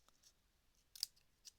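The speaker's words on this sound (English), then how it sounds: "So let's go ahead and cut it now." Scissors snip through paper while a Christmas card is made, giving a few short, crisp cuts close by, with one louder snip in the middle and quiet gaps between, no voices.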